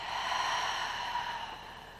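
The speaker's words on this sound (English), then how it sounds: "Expanding the belly first with the inhale and moving it into the rib cage and the chest. And then a very soft exhale out." A slow, soft breath drawn out over two seconds in a quiet room during a yoga session, airy and close, easing off gently at the end with no talking.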